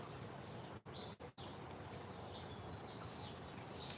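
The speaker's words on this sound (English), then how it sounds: "was a song sparrow right there." A song sparrow sings outdoors, its faint, brief chirps repeating at a distance over steady background hiss.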